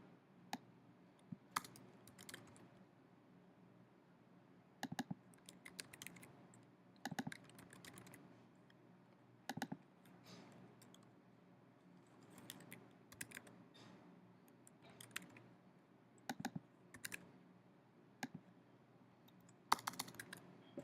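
Typing on a computer keyboard while coding a form, with irregular bursts of light key clicks and short pauses, fairly quiet and steady throughout with no talking.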